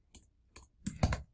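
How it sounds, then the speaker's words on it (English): A handful of soft, sparse keystrokes on a computer keyboard, with a short pause before a quicker pair of clicks, heard close and quiet. "I'm just going to start typing them here."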